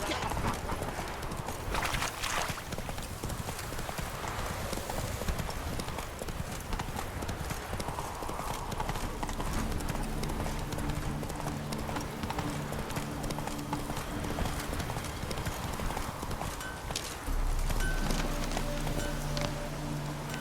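A horse galloping in The Witcher 3: steady rapid clip-clop of hooves throughout, close and continuous, with a low droning tone joining in the second half and a brief voice near the start.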